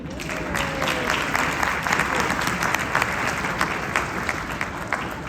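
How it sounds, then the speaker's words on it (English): Sustained applause from families and an audience at a spring concert by a student wind ensemble, many hands clapping steadily at moderate loudness throughout, with no talk over it. "can we give our families a round of applause for supporting you?"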